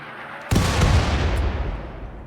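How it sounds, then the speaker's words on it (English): An artillery barrage in the video game RimWorld erupts as one loud, broad boom that rolls into a sustained rumbling roar, loud and close, with a faint hiss before it. "All right, incoming first barrage."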